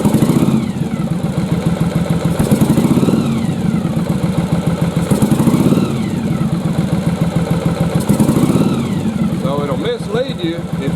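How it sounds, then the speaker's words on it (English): A one-cylinder-firing Yamaha Virago motorcycle engine runs close by with a rough, uneven pulse, rising in repeated throttle swells, while someone talks over it. "as I throttle up and open the throttle"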